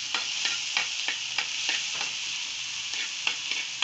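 A paste of ginger, garlic and chili sautés in a pan, hissing steadily up close while a spatula scrapes and taps against the pan in a loose, repeated rhythm.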